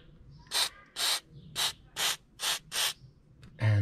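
WD-40 spray lubricant aimed at the throttle linkage of a Mercedes R107, six short hissing bursts in a steady rhythm, close and crisp, each about a third of a second.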